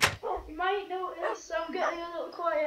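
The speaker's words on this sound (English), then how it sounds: "you might hear a bit of whining in the background. That's just my dog." A dog named Wilson whines and whimpers in short bursts in the background beneath someone talking close to the microphone.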